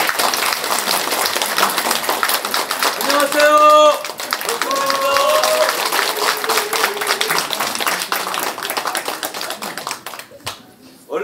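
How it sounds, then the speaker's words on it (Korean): Audience clapping greets a speaker at a Korean election campaign office opening ceremony, a steady patter of many hands running under a brief spoken greeting and other voices before fading near the end. "큰 박수로 맞이해 주시기 바랍니다."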